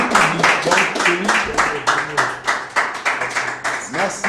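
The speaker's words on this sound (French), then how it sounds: "sous les acclamations du public" An audience claps and cheers at the award ceremony for a PlayStation 4 football tournament final. The applause stays steady for several seconds while a voice talks over it.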